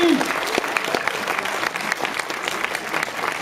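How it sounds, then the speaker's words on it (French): Applause from the crowd at the Shootmania Joust final of a gaming tournament, steady dense clapping mixed with a few cheers, with voices in the room faintly audible. "Allez, applaudissements pour Johan Link."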